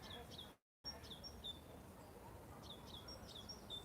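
A small bird gives repeated high squeaking calls outdoors in Blackpool sunshine, short chirps in quick clusters, faint and somewhat distant, with a brief silent dropout early on.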